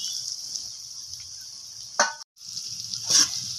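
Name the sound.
stirring fried cauliflower with spices in a pan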